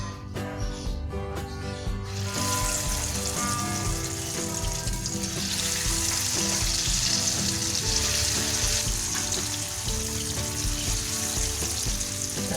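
Chicken pieces frying and sizzling steadily in hot oil, a dense continuous crackle that swells after the first couple of seconds and holds loud and close throughout.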